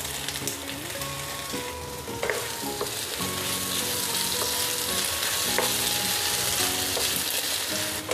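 Beef and sliced red onion stir-frying in a hot pan, a steady loud sizzle and crackle with occasional scraping of a utensil throughout, close and continuous with no talk.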